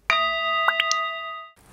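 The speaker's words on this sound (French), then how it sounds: "Et bien voilà, coup de gong." A small gong is struck once, ringing with bright sustained metallic partials that shimmer and fade alone over about a second and a half.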